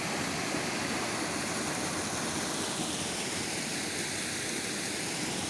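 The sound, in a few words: small waterfall flowing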